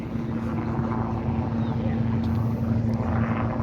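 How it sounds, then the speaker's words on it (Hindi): Tourist helicopter flying over New York, a continuous droning rotor and engine hum with a steady low tone, moderately loud and sustained throughout. "हेलीकॉप्टर्स लिटरली यहाँ पे क्या बताऊँ, मतलब हर 5 सेकंड के अंदर एक हेलीकॉप्टर निकल रहा है"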